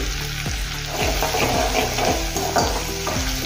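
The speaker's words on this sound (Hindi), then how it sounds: "तेल गरम हो गया था, अभी इसमें हम प्याज डाल दिए।" Finely chopped onion fries in hot oil in a pan, sizzling loudly and close. Rhythmic stirring scrapes recur about twice a second throughout.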